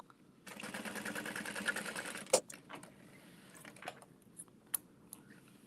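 A sewing machine bastes a line of stitches along the bottom of a beauty bag, running in a fast steady rattle for about two seconds before stopping, followed by a few clicks and faint handling sounds.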